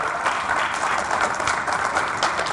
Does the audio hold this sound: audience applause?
yes